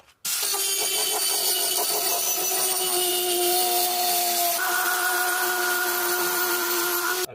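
Wire wheel on a power tool grinding rust off the metal floor of a 2010 Ford Transit Connect van, a continuous loud whirring, scraping whine that holds steady and shifts pitch partway through, close up with no talking.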